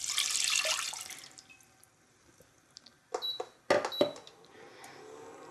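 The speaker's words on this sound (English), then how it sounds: "So now we're going to add in a cup of water." Water is poured from a cup into a saucepan holding half a cup of spelt, giving a brief splashing pour followed by a few clinks and small knocks of the pan, fairly close and quiet.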